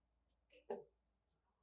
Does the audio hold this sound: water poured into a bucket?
no